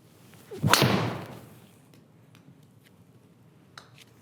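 A Mizuno ST-Z golf driver strikes a golf ball once, giving a single sharp, fairly loud impact that fades over about a second into quiet outdoor background with a couple of faint ticks.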